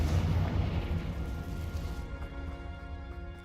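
A Confringo or Bombarda explosion spell in the Hogwarts Legacy video game bursts with a loud, booming blast. It then settles into a fading, ringing tail.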